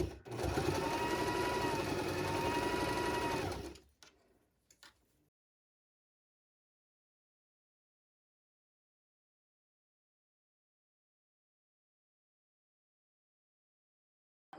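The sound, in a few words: Baby Lock Zest sewing machine straight-stitching t-shirt dress hem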